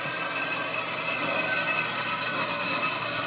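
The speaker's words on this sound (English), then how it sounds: "Can you imagine how much more pain it would be if you didn't have this bandsaw?" A bandsaw cuts through metal with a steady, continuous high-pitched grinding whir held at an even level for the whole stretch, fairly close and with no voices over it.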